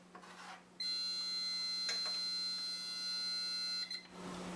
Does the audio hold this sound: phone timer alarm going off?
yes